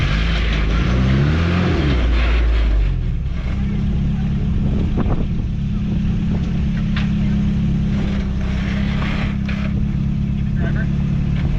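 A 1986 Toyota pickup with a three-link suspension and dual transfer cases crawls off-road in second gear, its engine droning low and steady throughout, with a rise in revs near the start and people talking over it.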